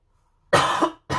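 A single sharp cough bursts out after a moment of silence, followed quickly by the start of a second cough.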